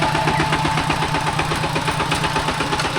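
Farm tractor engine idling in a rural village, a steady close rhythmic chugging that stays loud and even throughout, with no talk over it.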